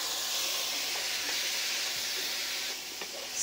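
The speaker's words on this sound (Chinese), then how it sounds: "油热后放入葱蒜爆香，再放入西红柿" Tomatoes sizzling and crackling in hot oil with scallion and garlic in a wok, a steady loud fry hiss close by with scattered pops and light stirring, no talk.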